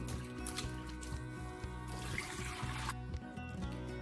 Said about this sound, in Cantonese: 呢個都係熱水喉嘅熱水，不過佢冇咁熱。